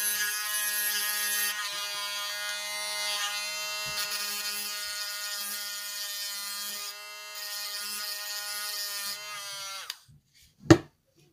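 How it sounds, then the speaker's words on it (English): A Dremel rotary tool grinds a dentalium shell for earring prep, a steady high buzzing whine running about ten seconds with slight load changes, then stopping abruptly followed by a brief clatter. "And then I'll take my Dremel, and I'll just even it out."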